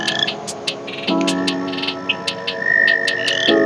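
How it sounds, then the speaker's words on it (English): Frogs call near a puddle and swamp in a repeated mating chorus: loud, sustained harmonic croaks that swell and restart, with sharp higher chirps layered on top, all close by and with no talking. "That's a frog's mating call."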